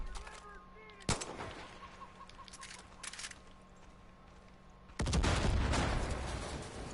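Light machine gun fire in the Far Cry 5 video game: a single sharp shot, then after a quieter stretch with bird chirps a loud sustained burst of automatic fire that rattles on to the end.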